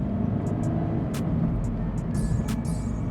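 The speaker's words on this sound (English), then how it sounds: "driving the Scion FRS" A 2016 Scion FR-S with a manual transmission driving along, its engine and road noise forming a steady close rumble inside the cabin, with a few short high squeaks on top.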